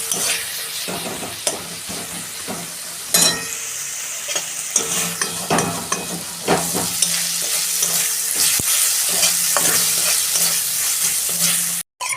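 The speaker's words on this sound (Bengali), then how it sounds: "অল্প জল দিয়ে আমি কষাবো।" Okra masala with cumin, coriander and chilli powder sautés in a pan with a little water, a steady loud sizzle broken by repeated scraping and stirring strokes, with no talk, ending in a sudden cutoff.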